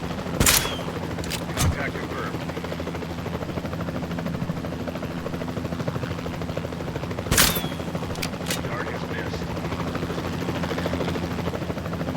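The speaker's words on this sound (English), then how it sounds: "While in aim mode, use the left trigger to fire tranquilization darts" Tranquilizer darts firing in the Jurassic World video game, heard as a few sharp, separate shots near the start and again around the middle over a steady engine-like drone. There is no speech.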